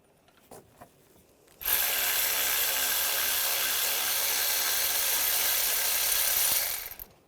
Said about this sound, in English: Using a 18mm socket over the stud,